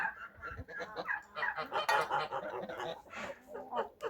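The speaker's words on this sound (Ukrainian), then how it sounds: "Порода гусей. Тульська бійцева горбоноса. Ось такі гусики" Tula fighting hump-nosed geese honk and cackle in a yard, a dense run of overlapping nasal calls from several birds at close range, steady throughout with no clear pauses.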